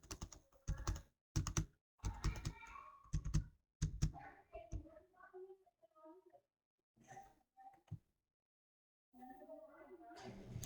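Someone types on a computer keyboard while entering a VLOOKUP formula in an Excel workbook, the quiet key clicks coming in short runs between stretches of a voice talking.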